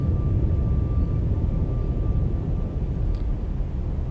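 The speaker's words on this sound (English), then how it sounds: "Cavitating means that we're generating air bubbles, really loud air bubbles." A submarine propeller cavitating in the naval game Cold Waters makes a loud, dense rumble of churning bubbles that roars without a break and stays close and heavy throughout.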